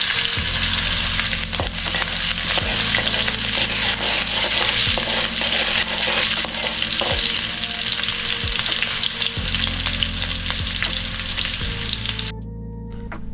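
Sliced green chillies stirred and frying in a pan of hot oil for a Sambar Wadi snack, a loud continuous sizzle with scraping stirs throughout, easing slightly near the end.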